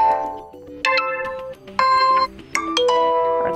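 Several short melodic notification tones previewed one after another on a Motorola Moto E20 smartphone, each a clear, close chime with ringing harmonics, separated by brief gaps.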